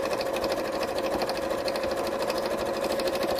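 A sewing machine stitches felt in a steady fast whirring hum with rapid rhythmic needle clatter, close and continuous with no talk over it.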